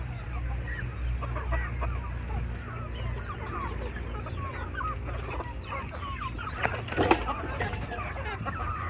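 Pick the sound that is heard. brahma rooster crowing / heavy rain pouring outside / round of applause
brahma rooster crowing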